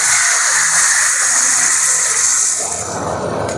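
Heated water pours into a hot pan of eggplant masala for a Kerala brinjal roast, making a loud rushing hiss and bubbling that holds steady, then softens and shifts near the end.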